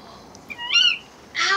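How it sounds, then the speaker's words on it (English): Cartoon owls call in short tonal bursts, a brief hoot followed by a louder wavering cry and a sharp squawk, close and clear over a quiet background. "Owls!"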